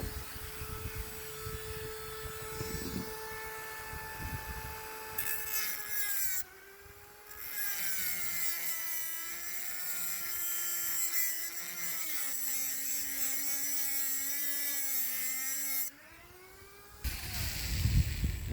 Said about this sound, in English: You can use a regular Dremel as long as it'll fit in the place that you're trying to get to